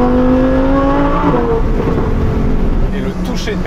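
Lamborghini Huracan Tecnica with its V10 engine revving loudly, a steady, booming roar with a pitch shift midway that fills the cabin and sounds close, while a voice is faintly audible beneath it.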